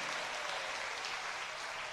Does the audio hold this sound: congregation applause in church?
yes